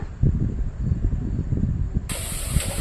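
Onions and tomatoes sautéing with salt in a pan, a steady close sizzle and crackle with soft stirring scrapes, continuous for a few seconds.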